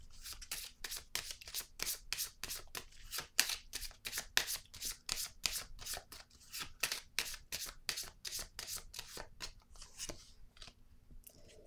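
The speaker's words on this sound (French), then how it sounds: "Je vais déposer une autre carte sur la lumière." Tarot cards shuffled in the hands, a fast run of crisp riffling flicks in steady rhythm, close and fairly quiet, slowing and thinning near the end as cards are laid down, with no talk.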